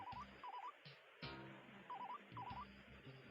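A telephone rings with a repeating electronic melodic ringtone, short tuneful bursts recurring several times at a faint, distant level without speech.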